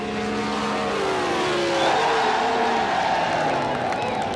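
A Ford six-cylinder roadster races a dragster down a drag strip, engines roaring steadily and loud throughout with a rising surge of power midway, a crowd faintly audible beneath.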